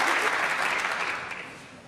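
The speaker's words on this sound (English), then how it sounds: "And a little bit of ironic applause there from the crowd" A snooker crowd at the Welsh Open in Cardiff's Motorpoint Arena gives a brief burst of ironic applause, full at first and then fading away.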